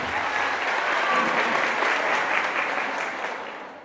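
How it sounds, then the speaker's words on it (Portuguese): A dense burst of audience applause at a teachers' pedagogical conference in Brazil, steady and full before tapering off near the end. "Boas palmas, senhoras e senhores."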